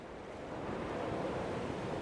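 Steady ocean waves wash onto a beach in Dear Esther, a continuous broad roar mixed with wind, moderately loud and unbroken.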